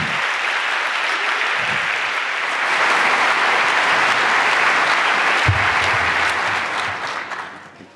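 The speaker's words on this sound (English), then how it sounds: "Please welcome, with an anniversary edition applause, Chris Galinsky." A conference audience applauds to welcome a speaker, a dense and loud clapping that swells, holds steady for several seconds, then tapers off.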